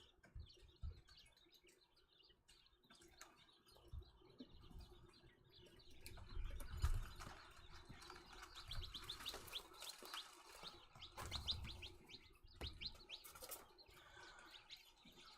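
Twenty-nine-day-old chicks in a flock being integrated with adult birds chirp and peep in scattered bursts, some calls close and others farther off, with rustling and low thumps between.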